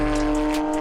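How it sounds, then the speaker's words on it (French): A Porsche 992 GT3's naturally aspirated six-cylinder engine screams at high revs on the Circuit du Castellet track, a loud, steady, sustained wail with tyre noise underneath. "le son de ce fameux 6 cylindres atmosphériques qui résonne jusqu'à 9000 tours minute"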